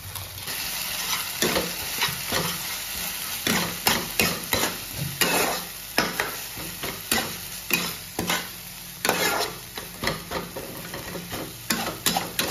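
Garam masala being stirred into ginger-garlic paste in a frying pan, with a spatula scraping in repeated irregular strokes over a steady sizzle, close and fairly loud, with no talking.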